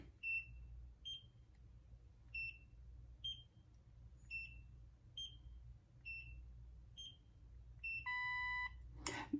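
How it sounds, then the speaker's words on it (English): A small skincare gadget gives short electronic beeps in a steady pulse, about one per second, then a longer, different tone before a brief clatter. "That beep that went, that was a different beep."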